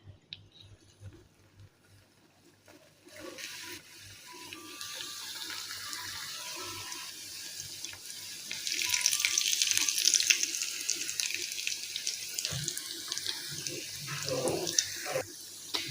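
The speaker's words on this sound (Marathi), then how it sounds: "आपण इथे तेल तापत ठेवलेलं आहे. याच्यामध्ये आपण रोल सोडून घेऊया." Chicken spring rolls dropped into hot oil in a home kitchen, settling into a steady crackling sizzle that swells louder partway through, with a few brief clinks of utensils and no talking.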